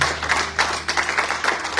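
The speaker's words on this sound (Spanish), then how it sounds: "Dele fuerte palmas, Señor, pero fuerte, fuerte, fuerte a Él." A church congregation claps hands together, a dense, steady wash of close and loud clapping with no pause.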